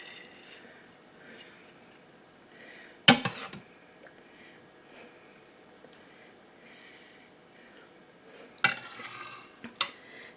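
Metal utensil scraping and clinking against an Instant Pot insert while cooked rice is scooped out, two sharp clanks amid soft, quiet stirring sounds in a kitchen.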